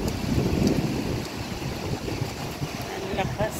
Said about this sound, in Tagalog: Yan ang lakas ng ulan niya guys.